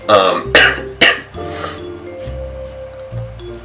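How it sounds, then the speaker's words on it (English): A few sharp coughs and throat clearing close by, followed by a quiet stretch with faint clinking. "I'm just coughing here and there."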